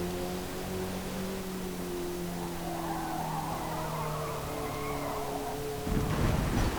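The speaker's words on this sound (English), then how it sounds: "Bit of oversteer there, kicking us stay out wide." Mazda MX-5 in Forza Motorsport sliding into oversteer: a long tire squeal rising over a steady engine drone, then a sudden louder rumble near the end.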